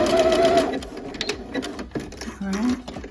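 A home sewing machine runs a short back stitch, its whirring motor loud and close, with a voice speaking over and around the stitching.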